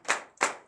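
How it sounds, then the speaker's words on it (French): Two quick bursts of hand clapping at a morning prayer service, close and fairly soft, separated by a short pause. "Donnez l'acclamation à notre Seigneur Jésus"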